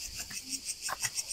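Crickets chirp outdoors near castle ruins in Kassiopi, Corfu, Greece, in a faint, steady pulse of short, evenly spaced trills. A few soft background noises sound beneath them.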